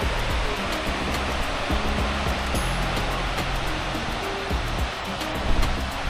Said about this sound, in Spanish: El ruido de las olas